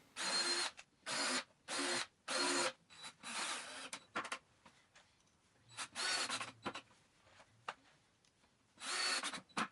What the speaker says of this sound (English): I came back and pre-drilled and put screws in